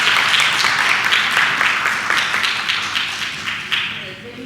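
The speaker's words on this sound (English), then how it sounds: "Let's have a round of applause for them." A round of applause at a school board of education meeting, a dense, steady wash of many hands clapping in a room, holding loud for several seconds before tapering slightly toward the end.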